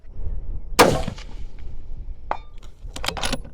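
A single sharp crack from a Ruger American Gen 2 .308 rifle firing Hornady ammunition at a 400-yard target, followed by a brief decaying tail and then a few light metallic clinks.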